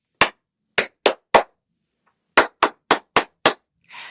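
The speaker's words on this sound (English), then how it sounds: "So you pat the first, you clap the next." Sharp hand pats and claps in a steady pattern, four strikes, a pause, then five more, in a children's music class body-percussion game; close and crisp, no talking, with a soft rustle at the end.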